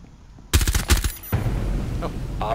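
Gunfire in Rainbow Six Siege: a loud rapid burst of shots followed by a second burst, then fading reverberant tail, with no talk.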